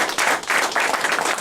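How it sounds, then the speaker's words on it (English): Audience at an installation ceremony applauds in a dense burst of clapping, close and loud, lasting just over a second. "Let's give him a round of applause."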